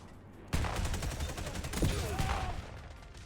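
Gunfire from a weapon in the video game Black Ops 2: a loud, sustained burst of rapid shots that starts abruptly and continues for about three seconds.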